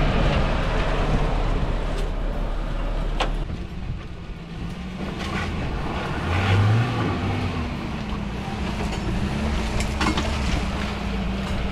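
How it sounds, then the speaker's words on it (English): A four-wheel drive vehicle drives on a rough track near Saint Cuthbert's Mission in Guyana, its engine a steady low rumble throughout, with wind and jostling noise and a brief surge in the middle. "It's time for four-wheel drive."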